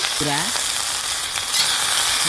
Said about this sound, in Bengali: তেল গরম হয়েছে, এখন আমি ডাঁটা দিয়ে নিচ্ছি